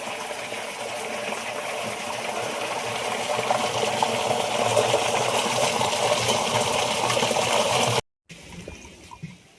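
Steady gushing water pours loudly into containers for about eight seconds, then stops abruptly, followed by faint trickling and rustling.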